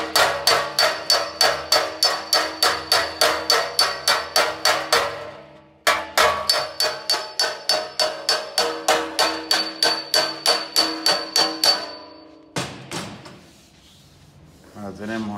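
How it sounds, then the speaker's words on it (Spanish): A hammer strikes car body sheet metal on a bodywork patch in rapid, evenly spaced ringing blows, two long runs separated by a short pause, followed by a few scraping sounds. "se puede tocar con el martillo tranquilamente"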